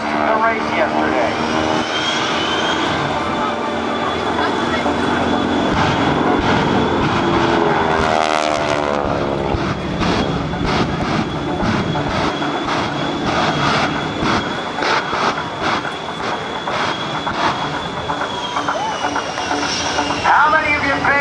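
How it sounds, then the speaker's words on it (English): Propeller engine drone of a T-6 Texan racing a 350-plus mph 57 Chevy Super Shockwave jet truck at the 2008 NAS Oceana airshow, a steady loud roar with a passing swell midway, under an announcer's voice. "How many of you think Bill Leff in his T-6 Texan's going to win the race?"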